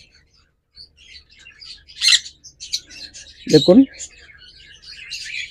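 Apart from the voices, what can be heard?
lutino red-eye Fischer's lovebirds chirping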